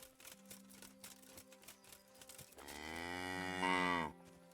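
A cow in the medieval game Kingdom Come: Deliverance gives one long, loud, close moo that swells and then cuts off near the end, after a stretch of quieter game ambience.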